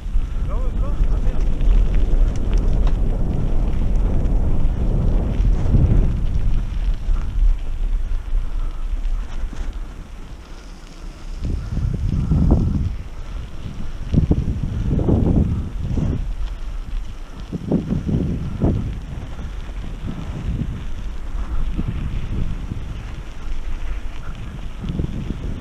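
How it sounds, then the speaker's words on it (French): Strong wind buffets the microphone during a mountain bike ride at Lac du Salagou, a loud rushing roar that swells and fades in gusts, with riders talking in French between them. "c'est le vent comme c'est agréable"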